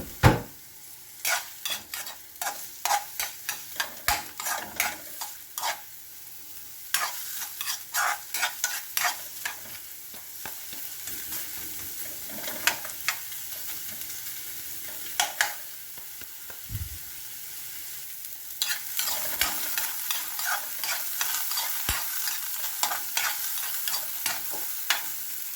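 Tilapia with onion and garlic sizzles steadily in a frying pan while a utensil stirs it, giving repeated scraping strokes in uneven bursts over a continuous hiss of frying, close and fairly loud.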